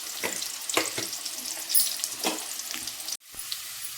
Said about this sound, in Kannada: ನೋಡಿ ನಾನು ಈ ರೀತಿ ಫ್ರೈ ಮಾಡ್ಕೊಂಡಿದ್ದೀನಿ.